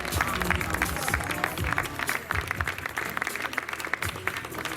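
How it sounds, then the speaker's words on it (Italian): Spontaneous audience applause at an evening event as speakers are introduced, a brisk, moderately distant patter of many hands clapping unevenly throughout. "grazie per l'applauso spontaneo"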